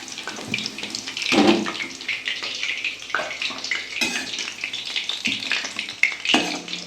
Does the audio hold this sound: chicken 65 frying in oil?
yes